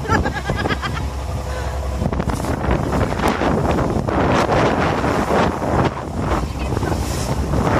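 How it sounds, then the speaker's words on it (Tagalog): Strong wind blasting across the microphone on an island beach, a loud constant buffeting roar with surf underneath and faint voices mixed in. "Mahangin sa labas."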